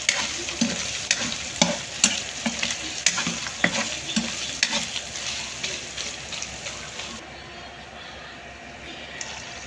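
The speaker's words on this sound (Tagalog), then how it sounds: "I-prito natin sa mantika" Ground pork or beef sizzling in hot oil with repeated crackling pops and stirring scrapes, busy at first, then settling into a quieter, fading fry.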